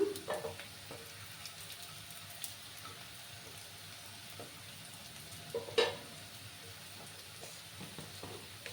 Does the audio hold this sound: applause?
no